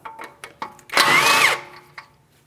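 A power tool removes an 18mm mounting nut on a tie rod end of a 2016–2025 Chevrolet Malibu. A few short ratchety taps lead into one loud, close whirring burst of about half a second, followed by faint clicks.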